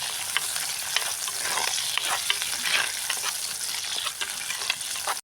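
Masala paste with onion, green chilli and ginger frying in a pan for fish curry, a steady sizzle broken by repeated scrapes and clicks of a stirring spoon, close and continuous with no talking.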